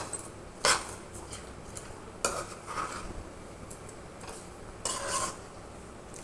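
Tomato pickle being stirred in a cooking pot, a spoon scraping and clinking against the metal three times in slow, irregular strokes, close and fairly quiet with no talk.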